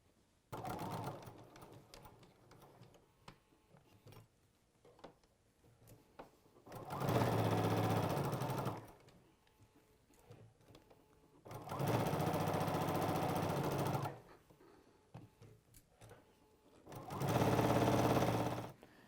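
Sewing machine stitching quilt fabric, three loud sustained whirring runs of several seconds each separated by quieter pauses with small handling sounds.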